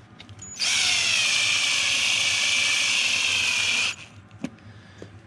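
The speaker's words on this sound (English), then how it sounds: "So installing these spikes, you need to go slow with your drill." A power drill drives steel studs into a Bobcat tire, running slowly in one steady, loud whine of about three seconds that stops cleanly, followed by a couple of faint clicks.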